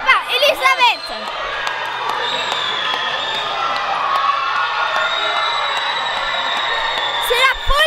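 A crowd at a youth hockey tournament cheers and clamors after a goal, a loud sustained roar with high shouts and whoops from children, swelling at the start and end.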